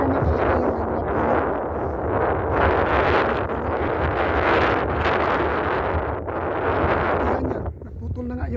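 Wind among trees in winter, rushing in broad gusts that rise and fall, buffeting the microphone with a heavy low rumble, loud and close.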